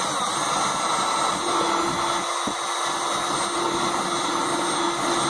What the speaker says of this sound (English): we're going to drill another hole